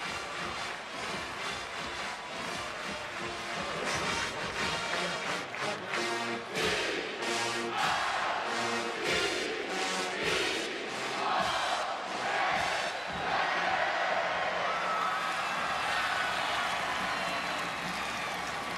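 A big stadium crowd roars and cheers after an LSU touchdown in a 2013 college football game against Auburn, a loud, sustained wash of noise that keeps going without a break.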